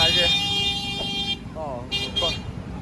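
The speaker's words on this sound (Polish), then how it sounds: "Zapomniałem dodać jeszcze o klaksonach" Car horns honking in congested Karachi street traffic, several toots and a wavering horn-like tone over a steady traffic din, with no clear talk.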